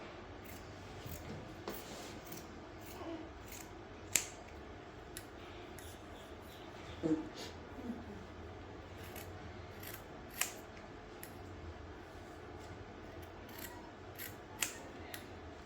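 Scissors cutting the front of fabric pattern pieces for a kids' two-piece outfit, crisp close snips repeating at an uneven pace over a quiet room, with a few sharper clicks of the blades.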